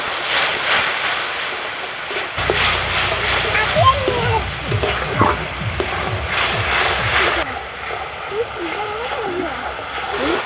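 Water splashes into sizzling crab masala cooked with Kashmiri red chili powder and turmeric, using Sundarbans river crabs; a steady, loud frying hiss with bursts of splattering runs throughout, and a voice is faintly present at times.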